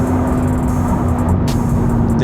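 A 1064 hp C8 Corvette ZR1 idles and rumbles steadily up close in downtown Chicago, a deep, continuous, loud exhaust drone with no talking.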